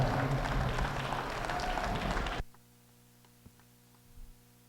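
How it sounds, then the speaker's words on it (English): Audience applause at a livestock show, a junior miniature Hereford cattle show, with a crowd clapping steadily for a couple of seconds before it cuts off to quiet room hum and a few faint knocks. "Let's give him a round of applause."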